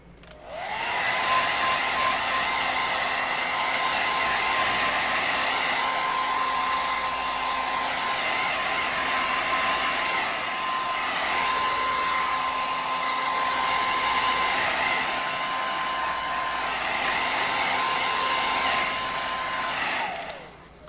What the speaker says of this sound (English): we're going to get a hair dryer